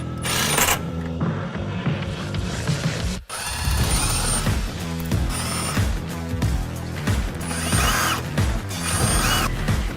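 A power driver whirs and ratchets as screws securing the bottom panel of a Polaris RZR Pro XP are backed out, with repeated bursts and metallic clinks, loud and close, and a brief gap in the middle.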